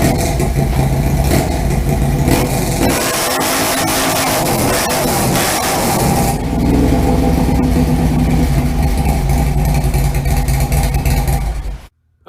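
Harley-Davidson motorcycle doing a hard burnout on a new tire until it pops, its loud engine roaring and revving continuously up close for about twelve seconds before cutting off abruptly.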